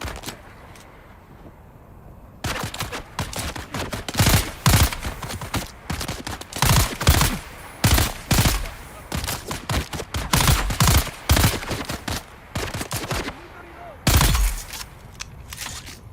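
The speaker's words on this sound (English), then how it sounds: "I do know there's a machine gunner over there." Bursts of machine gun fire in the video game Dune: Awakening, loud repeated volleys after a quiet start, crackling in clustered rapid strings with short gaps and one final burst near the end.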